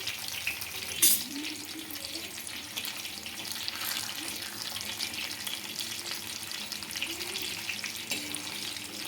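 Fish pieces fry in a pan with a steady, close sizzle and crackle throughout, broken by one brief clink near the start.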